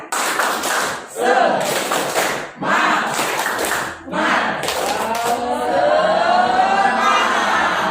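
Students in a classroom perform a rhythmic spirit clap, clustered bursts of loud group clapping in a set pattern, interleaved with a shouted chant from the class.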